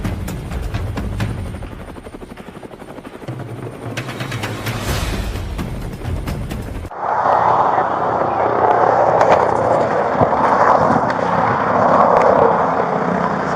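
Helicopter filming a police pursuit of a stolen car in DeLand, Florida, its steady rotor and engine drone loud and continuous, following a rougher mix of road noise and rumble.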